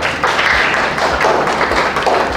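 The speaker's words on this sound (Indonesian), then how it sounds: "Terima kasih untuk Joshua, berikan tepuk tangan" Steady, dense applause from a class of teachers or students fills the room in a classroom teaching session, a continuous wash of hand claps with a few louder taps, sustained at an even level throughout.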